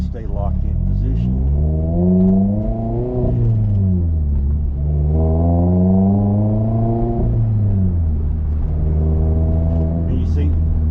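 An old-school manual car's engine revs up and drops twice during a clutchless rev-matched gear shift, the pitch sweeping smoothly up and down in a loud, close rumble with no talking.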